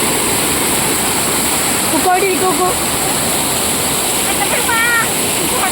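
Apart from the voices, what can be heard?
water flowing in a stream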